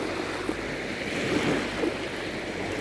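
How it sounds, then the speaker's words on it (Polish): Calm, small waves of the Mediterranean Sea at night on the Turkish Riviera, a steady, soft wash of surf with faint gusts of wind and no voices. "Spokojne, malutkie fale i taka magiczna,"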